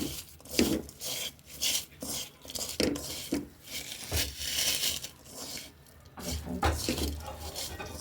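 Puti fish rubbed by hand with salt and turmeric gives repeated wet rasping and rubbing strokes in an irregular rhythm, close and fairly loud, alone without talk.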